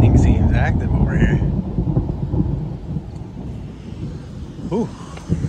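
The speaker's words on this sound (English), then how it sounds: "Lightning seems active over here." Thunder rumbles through a lightning storm near Wales, Maine, with deep rolling booms that swell and fade alongside wind buffeting and a voice speaking briefly.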